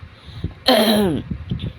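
A person gives a single harsh throat clearing that sounds like a held-back cough. It is brief and close, with quiet shuffling and small noises before and after.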